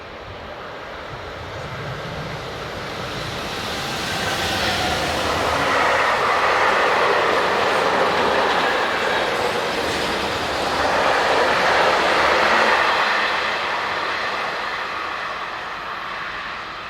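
Locomotive 1016030 hauling a mixed freight train from Nuremberg to Vienna, with a steady rumbling roar and wheel noise that swells as the train passes and stays loud throughout, no voices.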